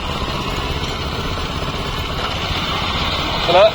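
A 7hp power weeder rotavator engine runs steadily nearby with a buzzy drone, rising slightly at the end, while someone talks over it.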